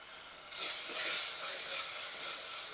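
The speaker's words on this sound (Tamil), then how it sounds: "அரை உப்பு போட்டு இப்போ வதக்க ஆரம்பிச்சிட்டோம்" Salted ingredients hit a hot pan for Madurai fish curry, bursting into a loud steady hiss of sautéing that starts abruptly and peaks briefly before holding even.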